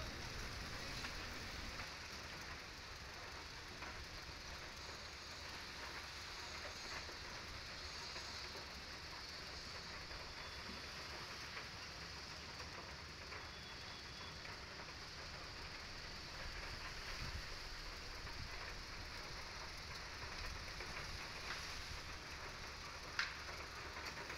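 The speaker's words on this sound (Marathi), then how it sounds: "रिमझिम पाऊस पडत होता." Light drizzling rain falls steadily as a soft, even patter on surfaces, continuous and moderately close with no voices, during a Ganesh festival farewell day.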